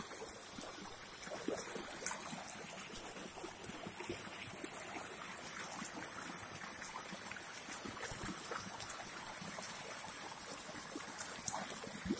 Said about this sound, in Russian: Поток, пол трубы где-то несется сюда со страшной силой.